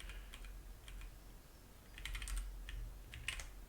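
Someone types on a computer keyboard in irregular bursts of quiet clicking keystrokes, some pauses between runs, close and alone without speech.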